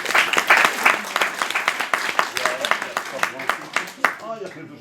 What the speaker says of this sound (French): On l'applaudit des fois.